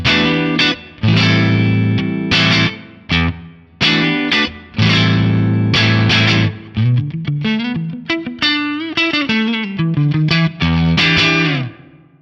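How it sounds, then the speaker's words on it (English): A distorted electric guitar played through an Axe-Fx III with a London Plate reverb set to a shortened decay time strikes chords and quick note runs, each phrase ringing into a short dark tail, loud and alone. "I know I like London Plate as a reverb when I turn the time down a little bit"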